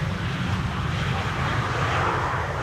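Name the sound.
KLM Embraer 190 arriving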